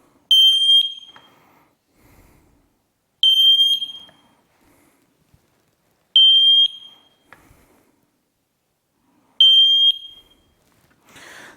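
Smoke detectors being tested sound four separate loud, shrill alarm bursts, each about a second long, spaced roughly three seconds apart with quiet gaps between.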